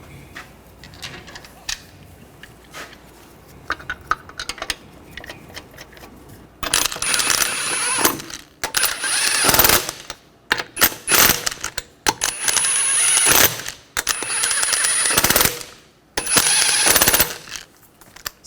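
Lug nuts are being run down on a 2013-2019 Ford Escape front wheel, heard as loud bursts of rapid mechanical ratcheting clatter separated by short pauses, after a quieter stretch of faint handling noises.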